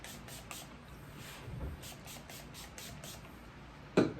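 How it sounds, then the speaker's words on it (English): Cleaner sprayed onto a bowling ball during resurfacing, a series of soft, quick, evenly spaced hissing spritzes at close range, faint, with a louder knock near the end. "we're going to spray."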